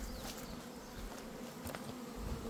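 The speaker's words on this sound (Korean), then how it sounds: "자, 오늘 흑말벌 한 마리 잡았습니다." A black hornet buzzes steadily around a beehive, its insect drone close and continuous with some background bee hum, no talking.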